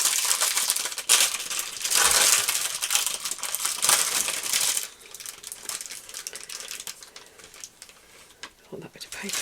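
Paper crinkles and rustles while being handled inside a silicone mould package, in dense close bursts for the first half before easing into quieter rustles, with a voice talking over it.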